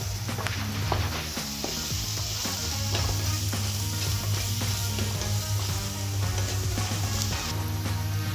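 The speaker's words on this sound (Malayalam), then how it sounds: "എല്ലാം ഒന്ന് മൂക്കുന്നവരെ വഴറ്റി കൊടുക്കുക" Turmeric and chilli powder sauté in a pan for tomato rice, with a dense, continuous sizzle and rapid stirring ticks over a steady low hum.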